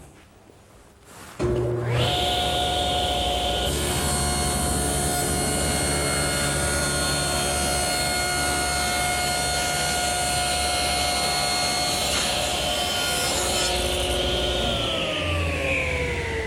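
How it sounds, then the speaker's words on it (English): A table saw starts up and rips lengthwise through a wooden panel, a loud steady whine with a rising tone as the blade cuts, running alone for about fifteen seconds before spinning down. "Now there, I've just ripped the panel to 21 inches wide."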